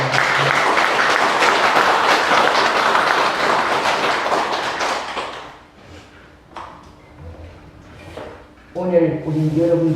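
Audience applause at a Won Buddhist temple lecture, dense and loud for about five seconds before fading, followed by a few scattered sounds and a voice speaking near the end.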